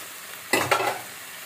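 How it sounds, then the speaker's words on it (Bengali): Water poured into a pan of frying fish curry sets off a sudden burst of hissing sizzle with a second surge, then fades back to a low simmer. "অল্প জল দিলাম।"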